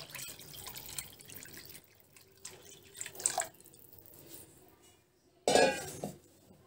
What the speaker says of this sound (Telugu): ఇప్పుడు ఇంకొద్దిగా నీళ్ళు వేసి